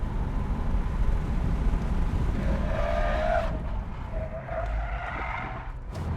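A car lapping a track through corners in a showy, drift-style run, with a continuous engine roar and tire squeal rising and falling through the turns, heard from close by.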